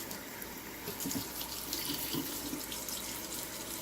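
Tap water runs steadily into a measuring cup in a home kitchen while a Halloween treat batter is being mixed, a continuous splashing flow that stays level from start to end.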